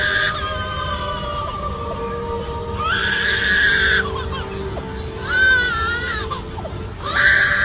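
Lyrebird mimicking a crying baby: several wailing, rising-and-falling cries in bursts, loud and close, over a steady background hum.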